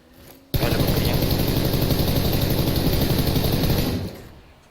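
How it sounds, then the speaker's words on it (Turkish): A motorcycle engine in the PUBG video game roars up suddenly, loud and close, holds a dense, rattling drone for about four seconds, then fades away. "İyi motor sesi. bir motorla geldi."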